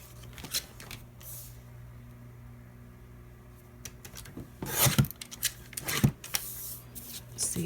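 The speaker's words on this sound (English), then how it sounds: "I'm going to need to cut just a titch off the bottom." Scissors trimming a small strip off the bottom of paper for a lap book craft, with rustling paper handling followed by a few sharp close snips and crinkles.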